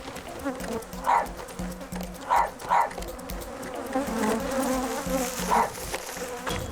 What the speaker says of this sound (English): The bees target anyone in the area, including the camera crew.